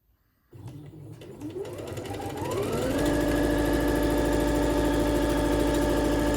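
Singer Confidence 7640 sewing machine stitching fabric, starting abruptly and ramping up in speed over about three seconds to a steady, loud mechanical whir with rhythmic needle clatter.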